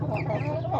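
A young hen clucks softly and continuously at close range, with a low farmyard hum underneath.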